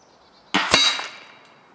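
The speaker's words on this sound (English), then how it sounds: "Shot number three." A single sharp shot from a Hatsan Bully .357 air rifle firing an NSA slug: a crisp crack followed by a brief metallic ring that fades within a second.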